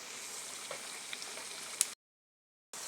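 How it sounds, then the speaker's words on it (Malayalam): Taro root pieces fry in hot oil with a steady, close hiss of sizzling and a few small pops, then the sound cuts off into a brief silence before the sizzle returns. "ഇതേപോലെ എടുത്തതിന് ശേഷം നമുക്കിതിങ്ങനെ ഒന്ന് ഇളക്കി വറുത്ത് കോരി എടുക്കാം."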